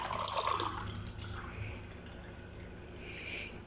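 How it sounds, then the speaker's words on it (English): Water poured into a two-stage filter container with a 0.5 micron carbon filter, a faint, close trickling and splashing that is strongest at the start and then settles into a soft, continuous flow. "I will pour some water"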